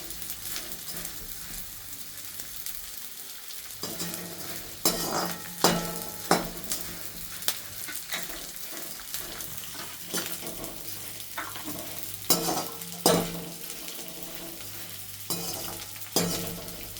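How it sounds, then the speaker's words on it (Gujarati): A low steady sizzle of edible gum roasting in ghee until brown, with repeated scraping stirs and occasional metallic clinks of a spoon against the pan. "ઘીમાં અને એકદમ બ્રાઉન થઈ જાય ત્યાં સુધી એને આપણે શેકવાનો છે"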